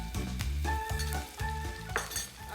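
Cumin seeds, ginger, garlic and finely chopped green chillies sizzle and crackle steadily in hot oil in a home kitchen, with a few light clinks of a spoon against the pan and no voices.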